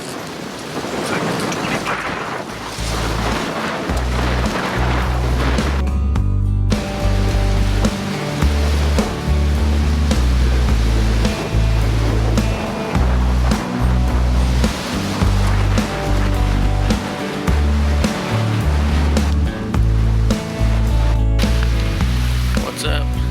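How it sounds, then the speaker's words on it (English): Strong wind roars through woods on private property in Ohio just after daylight, a loud, steady broadband rush that swells in gusts, with someone talking over it. "As you can tell, you can hear that. It's really windy."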